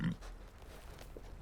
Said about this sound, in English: That's a pig.